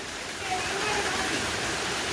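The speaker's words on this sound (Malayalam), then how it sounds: "മഴ നന്നായിട്ട് തന്നെ തകർക്കണുണ്ട്." Heavy rain pours down outdoors, a dense, steady hiss that stays loud and unbroken throughout, with no other sound standing out.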